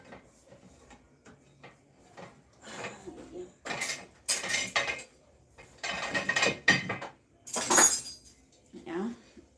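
Metal pots and pans clink, clatter and scrape in a kitchen as a pan is pulled out, in irregular bursts of rattling with quieter gaps, while someone talks over parts of it.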